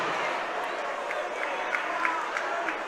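A student section at a boys varsity high school hockey game cheers after a big hit, a steady, broad roar of crowd noise with faint scattered shouts, fairly distant and continuous.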